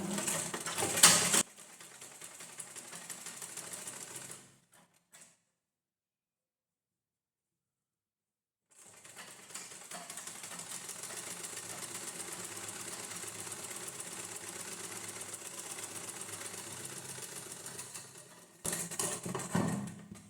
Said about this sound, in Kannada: ನಾನಿಲ್ಲಿ 1/2 ಇಂಚಿಗೆ ಹೊಲಿಗೆ ಹಾಕ್ತೀನಿ